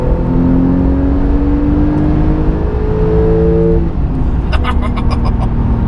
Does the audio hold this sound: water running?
no